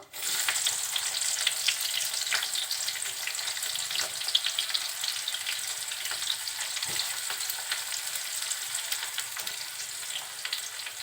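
Sliced onions and whole garam masala frying in hot oil for a goat meat curry, a continuous bright sizzle with occasional stirring scrapes, steady and close.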